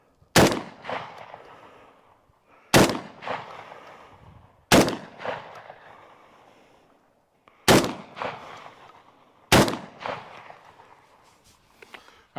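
Benelli shotgun firing Black Aces GT9 ammunition outdoors, five loud, sharp blasts spaced about two seconds apart, each with a short echoing tail.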